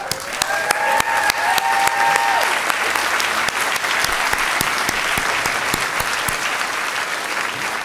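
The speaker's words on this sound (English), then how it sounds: "Please join me in applauding their phenomenal efforts and achievements." Enthusiastic audience applause at the ArtPrize finale ceremony, many hands clapping in a sustained roar with a few sharp individual claps standing out and a faint whoop early on.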